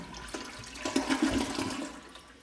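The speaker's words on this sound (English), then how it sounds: "heard the toilet flush in the background" A toilet flushes nearby in a room, a short rushing gurgle of water that swells and then drains away, with no voices over it.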